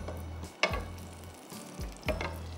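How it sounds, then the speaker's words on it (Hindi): Green tikka pieces shallow frying in a pan, giving a steady soft sizzle with a few sharper bursts as pieces are placed or turned, heard close and alone without talk. "इनको हम करेंगे शैलो फ्राई"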